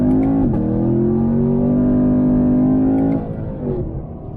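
A 2016 Chevrolet Camaro SS V8 launches hard from a standstill with some wheelspin on cold tires, its engine roaring loud and close as the pitch climbs steadily through the gear, then drops at a shift near the end.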